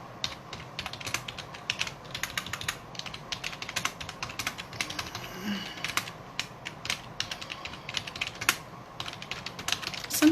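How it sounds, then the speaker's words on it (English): Typing on a computer keyboard: rapid, irregular clicks and clacks of keys in a quiet room, close and continuous throughout with occasional heavier strokes. "Okay, so I finished typing."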